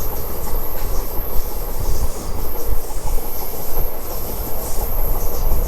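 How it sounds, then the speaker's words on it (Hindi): A local train running from Delhi to Gurugram rumbles along steadily with a constant wheel-and-rail roar and faint clatter, heard from on board at an even, unchanging pace with no talk. "नहीं, ट्रेन की स्पीड बढ़ नहीं रही है।"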